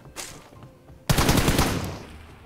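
Sudden loud automatic gunfire from a gun in a shooting video game, a rapid sustained burst after a quieter opening that slowly trails off.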